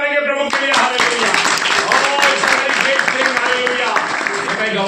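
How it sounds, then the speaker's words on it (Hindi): A church congregation claps along for the Lord with dense, rapid hand claps, loud and continuous, under a voice and sung or chanted praise. "ये ताली मारेंगे प्रभु के लिए"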